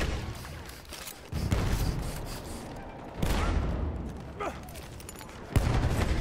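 Bursts of gunfire from Battlefield 1 multiplayer, including shotgun and sniper shots, hit in several loud booming blasts amid a dense, noisy battlefield mix with no talking.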